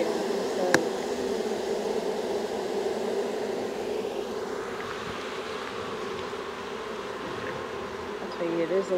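Honey bees on their first arrival, a dense steady buzzing swarm filling the air close by, with a sharp click early on and faint voices in the background.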